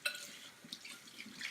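Water runs while pulp residue is rinsed off a juicer dish: a faint, brief splashing trickle with soft drips and light clinks.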